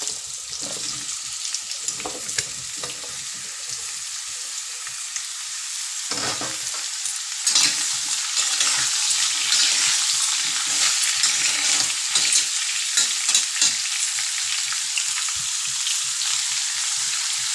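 Sliced pumpkin fries in hot oil in a pan, giving a continuous crackling sizzle with occasional louder pops and stirring scrapes, close and steady throughout with no voices.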